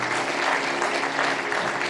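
An audience claps together at a sermon, a dense, steady patter of many hands with no pauses, heard alone for a couple of seconds.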